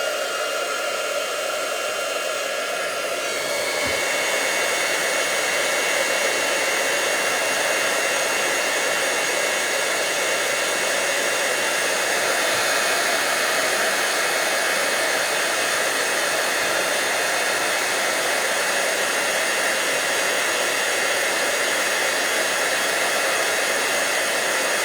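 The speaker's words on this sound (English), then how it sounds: "I'm gonna turn my embossing gun on for a second" An embossing heat gun runs as a steady loud whooshing roar, like a hair dryer, starting softer and rising after a few seconds, then holding constant with no talking.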